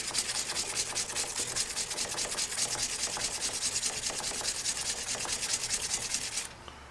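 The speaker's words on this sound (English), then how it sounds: "just like the sandpaper, you want to go sideways as well" Sandpaper is rubbed sideways across a wood surface in quick, even back-and-forth strokes. The close, steady scratching continues for several seconds and then stops just before the end.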